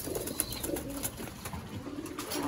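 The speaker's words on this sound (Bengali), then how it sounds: "আমার বেশ কিছু বড় কবুতর আছে আর কিছু বাচ্চা" Pigeons and their young coo softly at close range in a rooftop loft, a few low throaty coos over faint background noise.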